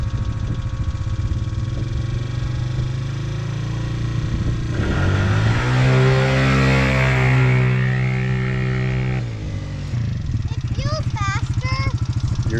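A race vehicle's engine is pinned at full throttle for a launch. A loud rising roar climbs steadily in pitch and holds for several seconds before cutting off, with a steady engine drone before and after it.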